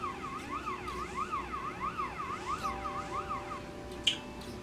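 An emergency siren wails in a steady rising-and-falling sweep, repeating several cycles at moderate distance before cutting off, followed by a brief sharp click.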